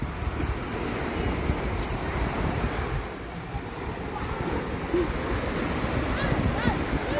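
Sea waves wash steadily onto a beach in Bulgaria, a continuous broad roar of surf mixed with wind buffeting the microphone, with faint distant voices now and then.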